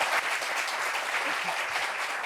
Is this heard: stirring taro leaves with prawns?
no